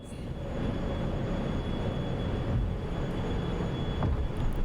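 A Phenom 300 business jet taking off in Microsoft Flight Simulator 2024, a steady, loud engine roar that builds slightly and holds throughout, with no voices.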